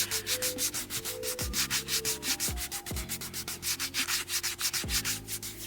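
A foot file scrubbing dead skin off feet outdoors on a patio, rhythmic rapid rasping strokes, close and fairly loud, with no speech.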